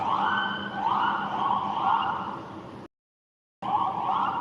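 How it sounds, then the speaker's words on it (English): A wailing siren cycles up and down steadily, loud and continuous, broken by a brief silent gap before resuming. "hear the sirens?"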